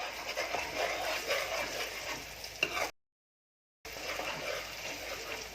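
Ginger garlic paste frying with onions and chilies in a pan over a low flame, a soft steady sizzle with a brief silent gap midway.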